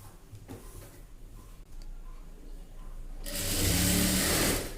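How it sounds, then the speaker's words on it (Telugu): Sewing machine stitching a chudi pant seam: quiet handling and faint clicks at first, then the motor starts up into a loud, steady close whir for the last stretch. "ఈ కుట్టు కూడా ఇలా వేసుకుందాం"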